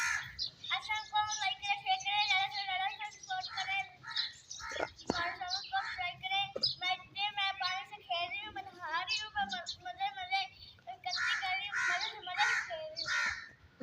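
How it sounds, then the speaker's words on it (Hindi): Crows cawing after rain, repeated harsh calls in irregular bursts from nearby birds, mixed with other bird chirps, while a person talks over them. "और ये परिंदे भी बहुत ज़्यादा एंजॉय कर रहे हैं माशाल्लाह"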